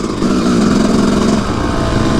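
Dirt bike engine droning loudly and steadily up close as the rider stands on the pegs and lifts a small wheelie, with a slight rise in revs and no talking.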